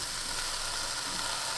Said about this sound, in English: so now we're gonna put our pork in